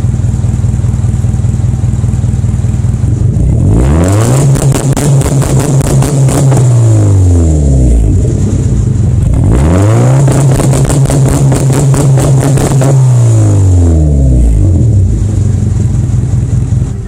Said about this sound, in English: this is what a factory rev limiter is like. It's only fuel cut, ignition stays activated.